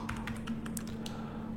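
Computer keys tapped in a quick burst of about a dozen light clicks, close up over a faint steady hum, with no voices.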